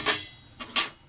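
A metal lid set onto a frying pan while fish roe fries with greens, giving two sharp clinks and a light scrape in between, close and fairly quiet, with no talk.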